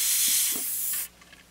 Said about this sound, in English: Just going to place it right there on the workpiece and just spray through it.